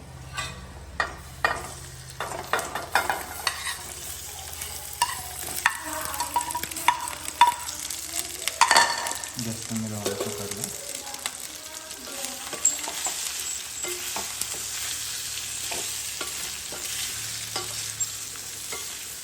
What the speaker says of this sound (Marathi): इकडं वरती आपण ते पनीर आहे ना फ्राय करून घेणार